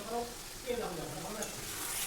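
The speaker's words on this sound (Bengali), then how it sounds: "এবার আরেকটু এটাকে নেড়েচেড়ে নেব" Fish roe fritter curry with potatoes stirred in a pan, a soft continuous sizzle with scraping spoon strokes throughout, close and moderately quiet, no talking.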